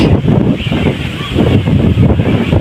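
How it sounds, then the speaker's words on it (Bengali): Loud gusty wind just before monsoon rain buffets the microphone with a deep rumbling roar that swells and eases for a few seconds. "বৃষ্টির আগ মুহূর্তে এত সুন্দর বাতাস"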